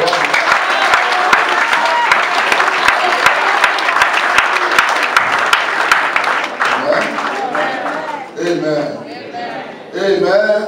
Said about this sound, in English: I want you to give Jesus a round of applause.